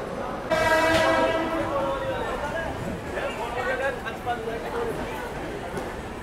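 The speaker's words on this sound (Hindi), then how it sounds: "जल्दी ट्रेन चल रही है" The Golden Temple Express passenger train pulling out on the Mumbai to Amritsar route, with a loud horn blast near the start and a steady rumbling rolling noise beneath, while people talk nearby.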